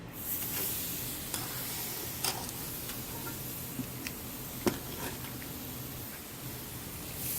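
Pork chops sizzling on the hot side of a grill, a steady close hiss with occasional small pops and ticks scattered through, no talking.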